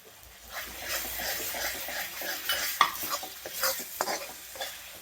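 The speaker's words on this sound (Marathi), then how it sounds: "कट केलेला लसूण घालून थोडा वेळ भाजायचा आहे आपल्याला व्यवस्थित एकदम" Chopped garlic frying in a pan, close bubbling sizzle with frequent stirring scrapes and light metallic clicks, fluctuating in loudness over several seconds with no one speaking.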